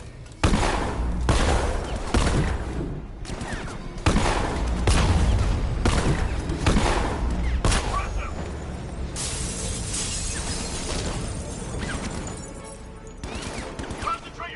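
Sustained, loud gunfire fills a combat scene in the video game Batman: Arkham Knight, with dense bursts and rattling volleys that continue almost without pause and mask any other sound.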